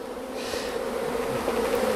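Honeybees lift off a hive frame in a steady, close buzzing drone that swells slightly as they take flight, with no voices.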